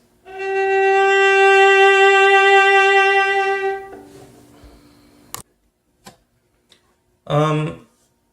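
A sustained bowed viola note with a steady, gently wavering vibrato pitch, held for about four seconds, followed by a few soft clicks and a short breathy noise.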